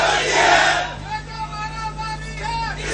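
Political rally crowd chanting slogans at a party event launching a youth force, a loud surge of massed voices at first, then fainter rhythmic chanting with whistles or horns over steady background noise.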